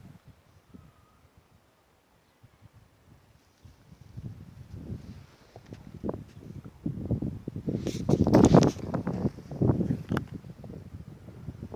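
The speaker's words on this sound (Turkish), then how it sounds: "Hele rüzgar esince oh ah, mis gibi oluyor." Wind gusts rush past the microphone in a mountain setting, starting faint and swelling into strong buffeting rumbles.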